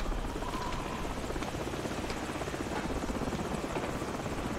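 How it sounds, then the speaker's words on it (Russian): A helicopter drops troops in the Call of Duty 4 video game, a steady loud rotor drone with dense low thumping that holds evenly throughout, with no voices. "Вертолет опять кого-то высаживает"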